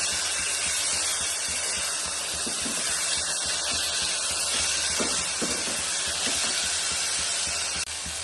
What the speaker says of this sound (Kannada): ಈ ಥರ ಚೆನ್ನಾಗಿ ಟೊಮೆಟೊ ಎಲ್ಲ ಸಾಫ್ಟ್ ಆಗೋವರೆಗೂ ನಾವು ಇದನ್ನು ಫ್ರೈ ಮಾಡ್ಕೊಳ್ಬೇಕಾಗುತ್ತೆ